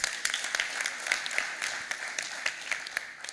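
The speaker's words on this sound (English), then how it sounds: "Can we clap for ourselves?" Distant applause from an audience at a university swearing-in ceremony, a steady crackle of many hands clapping with no one speaking over it.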